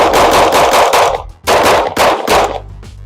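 Rapid strings of loud handgun shots from a concealed carry qualification course on a range, fired in quick bursts with brief pauses between groups.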